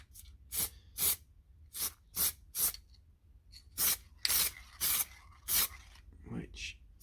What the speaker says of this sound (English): the first one up is the Genelite Chrome, which is